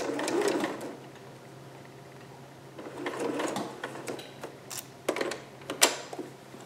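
A sewing machine stitching a dart in fabric, with short bursts of mechanical whirring and clicking separated by pauses, close and moderately loud, with no voices.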